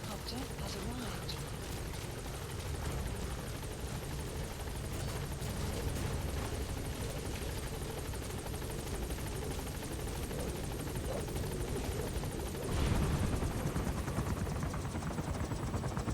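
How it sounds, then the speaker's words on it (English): Support helicopter Pequod arriving at a landing zone in a video game, its steady rotor drone filling the scene with a brief louder surge near the end, with voices speaking over it. "Support helicopter has arrived."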